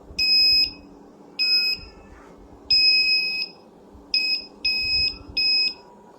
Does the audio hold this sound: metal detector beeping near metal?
yes